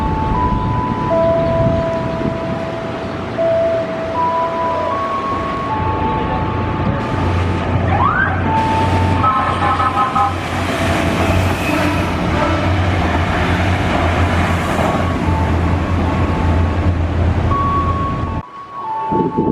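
An inspection train rolls through Tambun station on track 4, a loud, steady rumble and clatter of wheels on rail lasting many seconds, with a high screech and whine over it before fading at the end.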